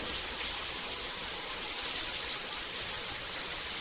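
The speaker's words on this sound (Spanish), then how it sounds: "¡Ducha!" A household shower runs in a steady, dense hiss of falling water, close and continuous with no voices.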